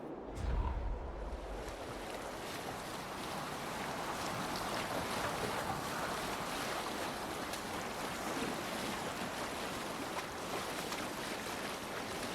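A Viking longship in Assassin's Creed Valhalla sails across open sea, with a steady wash of waves and wind rushing past the hull after a brief low thump at the start.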